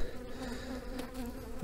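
Honeybees buzz steadily and densely at an open hive during a March inspection, a continuous close drone with no voices over it.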